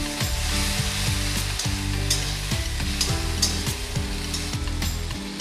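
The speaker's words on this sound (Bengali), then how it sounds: "এবার আমি দিয়ে নেব আদা টমেটো আর রসুনের পেস্টটা। যে ভালো করে আমি পেঁয়াজের সাথে কষে নেব।" Ginger, tomato and garlic paste sautéed with fried onions in a pan, giving a steady loud sizzle and frying hiss throughout, with repeated scraping stirs of a utensil against the pan.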